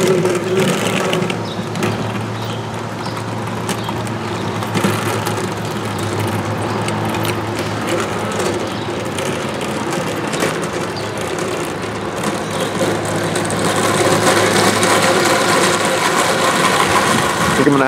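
A Hetzer tank replica's engine runs at full throttle on a road test, a loud, steady, unbroken roar with a rumbling, mechanical texture that holds throughout.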